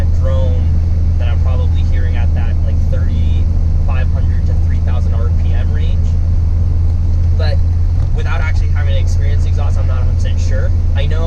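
A Honda S2000 with a GReddy Supreme SP exhaust cruises with a steady low exhaust drone, around 3,000 to 3,500 RPM, heard from inside the car beneath almost continuous talking.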